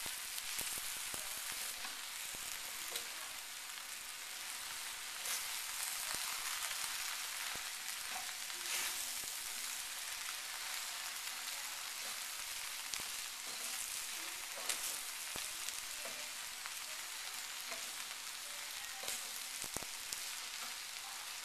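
Stir-fry noodles sizzling in a pan as they are turned over, a continuous bright hiss with scattered crackles and faint clicks of stirring, steady and fairly quiet.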